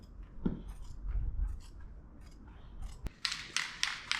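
Scissors snipping material for a 1959 Apache custom interior, faint rustling and handling noises followed by a sharp click and several crisp, rhythmic cutting snips close by.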